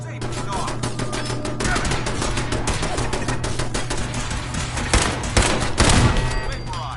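Rapid bursts of gunfire crackle loud and close in the Fallout 4 video game, shots piling into near-continuous volleys with a few heavier blasts near the end, and a voice speaks faintly underneath.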